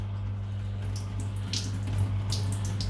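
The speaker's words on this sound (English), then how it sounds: "Bit of water coming out because I've just had it on." Water runs from a detached shower hose just after the shower was on, a steady close rushing spray that keeps going at an even level with a low hum underneath.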